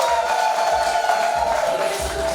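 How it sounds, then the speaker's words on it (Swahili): A church congregation claps and cheers in a dense, continuous burst of applause with whoops, filling the room throughout. "Hebu makofi kwao."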